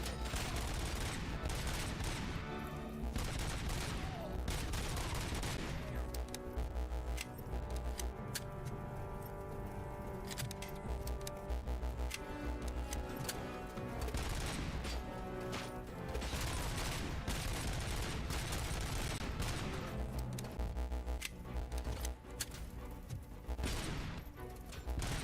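RoboCop: Rogue City gunfire as RoboCop comes under attack, dense rapid volleys of shots crackling in near-continuous bursts over a droning game soundtrack, easing briefly midway before the barrage returns.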